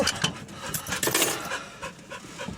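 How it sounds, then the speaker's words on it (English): A dog pants rapidly and close up, quick rhythmic breathy huffs with light rustling and clinks underneath, no voices. "I promise you that is the dog, not me."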